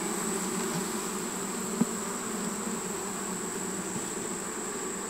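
Honey bees at an opened hive being smoked, a dense steady buzzing drone heard close and alone, with one brief click partway through.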